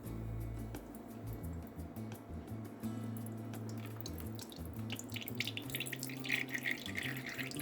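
Oat milk creamer pours through a double filtration system in a home kitchen, a soft continuous trickle with light dripping that grows busier toward the end, faint and close.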